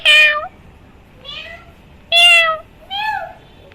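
A cat on a rooftop meows four times in two close pairs, loud, near and drawn out, with quiet gaps between the calls.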